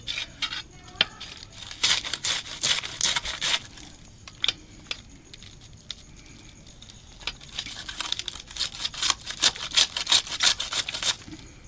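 Knife cutting through cabbage on a board for fritters, a run of sharp, irregular crisp chopping strokes in two bursts with a short pause between, close and fairly loud with no talking.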